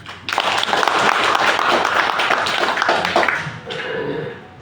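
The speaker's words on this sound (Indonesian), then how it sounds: "Tepuk tangan." An audience at a business opportunity presentation bursts into brief applause, dense clapping for about three and a half seconds before tapering off.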